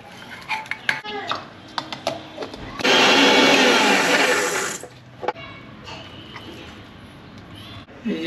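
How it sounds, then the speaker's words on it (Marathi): A mixer grinder grinds boiled soybeans in one loud, whirring burst of about two seconds, with utensils clattering and people talking before and after. "आता हे सोयाबीन आहे ना, त्याला मिक्सरमधून काढायचं, आपल्याला बारीक करायचं आहे"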